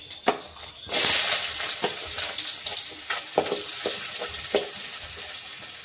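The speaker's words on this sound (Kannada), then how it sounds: "ಸ್ವಲ್ಪ ಜೀರಿಗೆ ಹಾಕೊಳ್ಕತ್ತೀನಿ ಇವಾಗ ಈರುಳ್ಳಿ ಸೇರ್ಸೋಣ" Chopped onion drops into a pan of frying cumin, setting off a loud, sustained sizzle after a quieter start, with scattered stirring scrapes and clinks continuing through.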